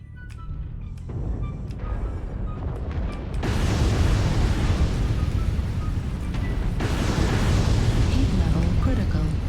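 Artillery strike explosions roar in the MechWarrior Online game on the Liao Jungle map, with a few sharp cracks followed by heavy, continuous rumbling blasts that stay loud and dense for several seconds.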